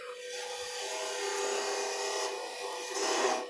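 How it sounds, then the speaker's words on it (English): A 3/8 inch gouge cuts wood spinning on a lathe, a continuous close rasping, scraping hiss that swells slightly toward the end, with no voices. "so I'm going to switch to my 3/8 gauge now."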